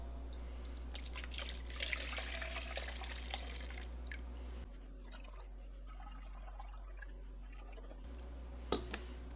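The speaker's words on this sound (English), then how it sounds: "We're down to the point where I can pour this into here." Homemade fire cider being poured into a container, a faint trickling and dripping liquid sound over a low steady hum, with a small clink near the end.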